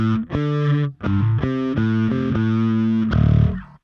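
Bass guitar played through a Lusithand Ground N Pound bass distortion pedal, a thick, heavily overdriven sustained tone shifting through several held notes, loud and alone with no talk.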